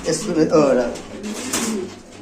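Low, soft cooing from a king pigeon rolls on beneath someone talking nearby.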